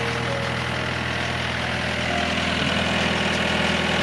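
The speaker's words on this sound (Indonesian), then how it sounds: "Ini nyala ini dieselnya. Suaranya besar banget." A loud diesel water pump engine runs steadily nearby at night in a flooded village, a constant rumbling drone with a mechanical chug and no pauses.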